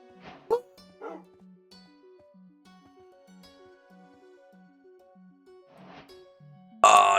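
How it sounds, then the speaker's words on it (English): Tamed dogs in Minecraft let out a few short, sharp barks early on and again near the end, over a soft, plinking melodic game tune, followed by a sudden loud burst at the close. "Oh, and it's the cool doggos."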